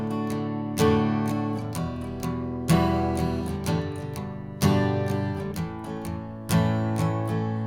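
Acoustic guitar strums a down-up pattern with strong accented downstrokes recurring about every two seconds, loud and close with ringing chords and no talk.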